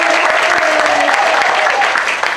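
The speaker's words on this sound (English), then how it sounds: "please give a big applause for Dr. Patrick" Applause from an audience at a pre-conference education workshop fills the room as a loud, continuous patter, with a voice briefly calling out over the clapping.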